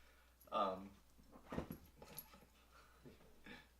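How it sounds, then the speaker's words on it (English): A dog gives a few short whimpering yelps and noises close by, scattered across a few seconds and mixed with nearby talk. "Dog's going crazy."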